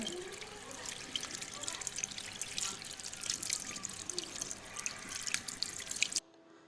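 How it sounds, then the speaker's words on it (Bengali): Tap water runs and splashes steadily over a dragon fruit being washed by hand, a close, soft trickling with small drips that stops abruptly at the end. "আমি একটা ড্রাগন ফল হাতে নিয়ে সুন্দর করে ধুয়ে নিচ্ছি"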